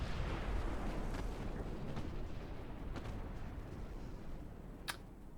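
Battleship naval guns fire in the naval warfare game Ultimate Admiral Dreadnoughts, a dense rumbling wash of distant booms with one sharper crack near the end, steady and fairly faint throughout.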